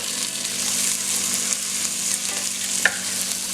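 Onions, with a few bits of carrot, fry and sizzle steadily in a pan for an Irish steak and Guinness pie, with soft stirring scrapes and a brief clink near the end; no voices.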